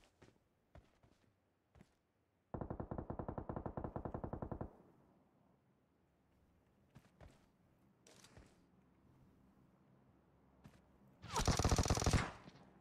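PUBG Mobile firefight: a tight two-second burst of rapid automatic fire, then scattered faint single shots and thuds, and a louder, broader blast near the end, all without talk.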